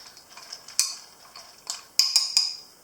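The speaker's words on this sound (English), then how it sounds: "So I'm going to give it a stir." A spoon stirs melting chocolate in a bowl, making a string of light clicks and sharp clinks against the side, loudest near the end, close up with no voices.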